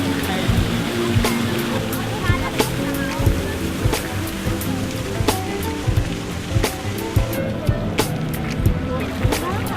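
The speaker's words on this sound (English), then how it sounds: "we spent some downtime in Piazza Navona, enjoying some of the most beautiful fountains in the city" Fountains in Piazza Navona, Rome, splash and rush continuously in a steady wash of falling water, with scattered clicks and crowd sounds in the open square.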